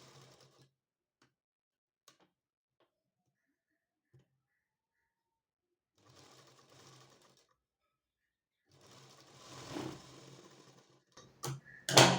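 A sewing machine joins blouse cup pieces in two short, fairly quiet runs of rapid ticking stitches, with near silence and small clicks before and a louder handling noise at the end.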